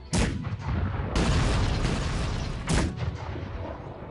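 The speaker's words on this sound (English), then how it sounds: "I have to upgrade the accuracy of my cannons because they are firing somewhere else." Cannons from a Cossacks 3 strategy game battle boom in three heavy, loud blasts with long rumbling tails, the second one sustained and dense.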